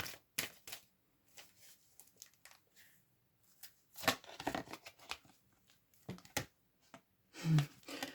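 Tarot cards are shuffled and drawn in bursts of quick riffling and flicking, with soft pauses between handlings and no voices.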